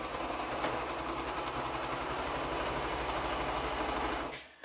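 A sewing machine stitches quilt pieces together in a steady, rapid mechanical chatter with a low motor hum, close and continuous, stopping abruptly near the end.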